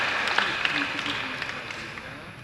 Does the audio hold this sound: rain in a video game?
no